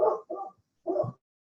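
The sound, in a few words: dog barking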